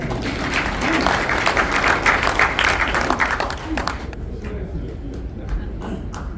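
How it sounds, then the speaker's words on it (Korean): An audience at a celebratory poetry recital applauds loudly and steadily, then the clapping thins and fades to scattered claps in a quieter hall. "우리 박수 한번"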